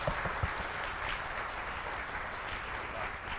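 Audience applause at the ASIACRYPT 2016 cryptography conference rump session, a soft, distant patter of clapping from a crowd, steady and fairly quiet for a few seconds.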